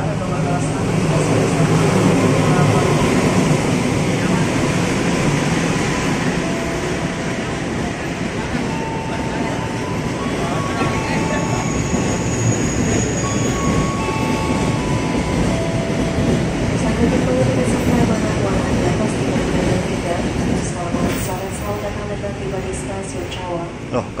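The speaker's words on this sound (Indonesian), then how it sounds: "Jalur 2 nya ada kereta batubara melintas langsung." A coal freight train rumbles steadily through Cawang station without stopping, with a continuous heavy roar, faint screeching tones, and a few voices nearby.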